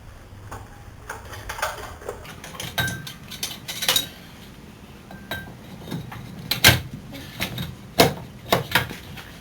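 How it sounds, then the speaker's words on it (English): Metal parts clink and clatter while a brake caliper is refitted over a new Girodisc lightweight EVO front rotor, giving scattered light taps and knocks at close range with quiet gaps between them. "Now we need to get the brake caliper reattached."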